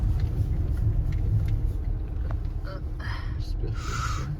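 A car rolls slowly through a muddy, flooded stretch of Loop Road in the Everglades, giving a steady, close low engine rumble with faint splashing and voices in the background.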